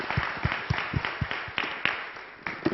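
Audience applause at a panel discussion event, a room full of people clapping steadily with distinct sharp claps in an uneven rhythm, fairly close and sustained throughout.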